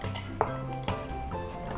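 A butter, sugar, yeast and water mixture for Manado panada dough is stirred in a bowl, with a couple of clear clinks of the utensil against the side over a steady background of tonal sound.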